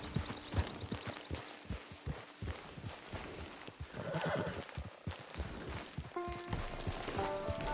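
A horse in Red Dead Redemption 2 Online, its hooves clip-clopping in a steady walking rhythm close by, with snorts and a whinny mixed in and some game sounds layered over the hoofbeats.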